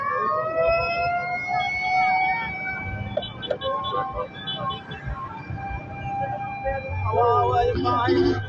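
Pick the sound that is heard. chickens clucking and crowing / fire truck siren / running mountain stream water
fire truck siren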